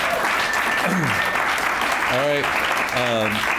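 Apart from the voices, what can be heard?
round of applause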